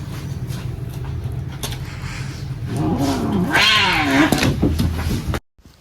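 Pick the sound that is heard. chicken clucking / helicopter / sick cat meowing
sick cat meowing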